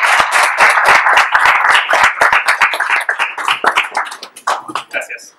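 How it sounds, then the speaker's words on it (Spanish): An audience at a tech talk claps for the speaker José before his talk on migrating a REST API to GraphQL, a few loud, distinct handclaps that thin out and fade, with a voice briefly heard. "damos un aplauso a José"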